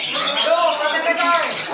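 Green leafbird (cucak ijo) song at a bird-singing contest, a dense run of bright warbling chirps and whistles over crowd chatter and noise, with people talking nearby.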